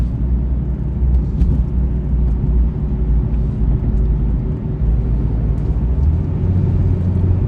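A car being test-driven on a dealers-only auction lot, its engine a steady low rumble close by with a continuous hum and no voices, the tone shifting slightly as it runs through the gears.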